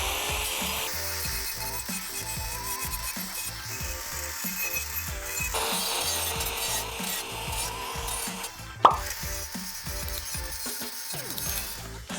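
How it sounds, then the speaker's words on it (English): A tool grinds away the inside edge of a toilet hole cut in floor tile, a steady rhythmic rasping scrape close by with one sharp click partway through. "I still want to get closer to the edge, and just trim off some of the inside."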